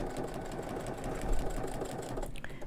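Sewing machine stitching a Rocky Mountain National Park quilt block, a steady low mechanical whir running throughout at close range, with a faint click near the end.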